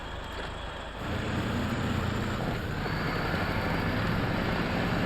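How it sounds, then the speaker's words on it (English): Loud, steady engine drone from a Z2 GSDF Type 94 amphibious vehicle driven in SnowRunner, a continuous low rumble that swells slightly after the first second and holds at full volume, with no talk over it. "This fucking truck is very, very loud."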